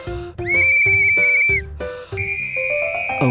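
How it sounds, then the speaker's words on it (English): A toy whistle is blown in several short, shrill toots followed by a longer warbling blast, loud and close, with brief pauses between blows. "A whistle."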